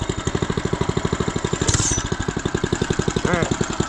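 A budget mini bike's small engine idling on a cold day just after starting, a quiet, steady rapid putter with even pulses and a brief rustle partway through.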